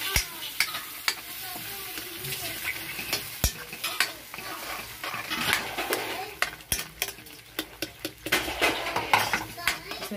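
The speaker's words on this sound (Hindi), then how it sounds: "अब इसको मिक्स कर लेंगे अच्छे से" A spoon stirs and mixes cooked moong dal in a metal pot, scraping and clinking in an irregular rhythm over a steady sizzle, close and clear.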